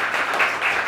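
Audience applause at an open-mic poetry event in Lucknow, a dense steady wash of many hands clapping at close range, continuous and fairly loud throughout the short burst.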